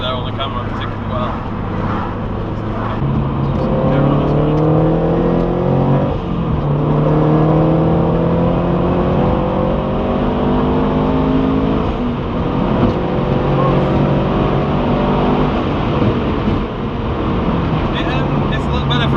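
Turbocharged Toyota GT86 with an upgraded exhaust, heard from inside as a steady engine drone that climbs through gears in repeated rising pulls, loud and continuous under light road noise.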